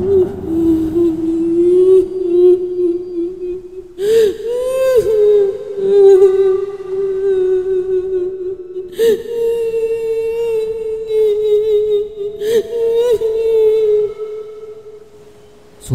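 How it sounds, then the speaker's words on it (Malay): A woman cries and whimpers in long, wavering, mournful wails that rise and swell, loud and close, with a few sharp breaks between drawn-out sobbing tones. "Suara tangisan itu semakin kuat dan mendayu-dayu"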